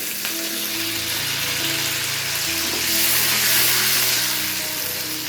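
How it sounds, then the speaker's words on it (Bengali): A little water poured into a pan of fried ginger and green chillies hisses into a loud, steady sizzle that swells briefly midway, close and alone with no talk. "ভেজে নেওয়ার পরে এখানে দিয়ে দিচ্ছি সামান্য পরিমাণ জল।"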